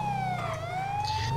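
Wailing emergency vehicle siren in FiveM, a steady rising and falling tone heard clearly at moderate distance, with low engine rumble beneath and no talking.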